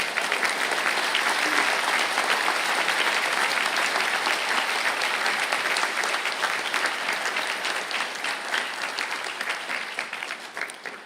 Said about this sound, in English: please stand for a well-earned round of applause